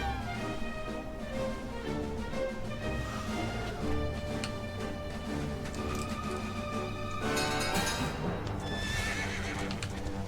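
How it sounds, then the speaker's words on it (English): Horse whinnying and hooves clip-clopping in the video game Dragon Quest XI S, steady and loud over a continuous music score, with no talking. "Gonna grab the horse"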